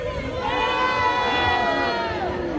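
An opposing crowd at a rally shouts and yells in a sustained, loud roar of many voices, somewhat distant and continuous.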